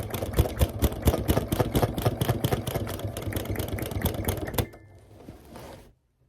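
Sewing machine running steadily in free-motion stitching for textile art, a loud, close, rapid regular needle rhythm for about four and a half seconds, then slowing and winding down to silence.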